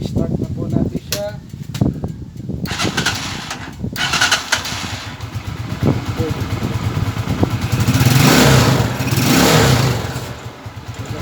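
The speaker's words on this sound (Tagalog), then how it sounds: "na ilagay ko na yung carburetor. I-start na po natin siya." A Euro150 motorcycle with a newly installed carburetor starts up, followed by a loud, close engine running and revving, with someone talking over it.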